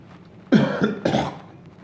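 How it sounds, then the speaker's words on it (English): Two forceful, breathy exhalations from a patient doing a yoga breathing exercise in an intensive care bed. Each is a short, close, loud rush of air, separated by a brief pause, and the room is otherwise quiet. "That's yoga breathing."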